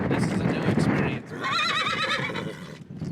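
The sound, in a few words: young horse neighing during cattle drive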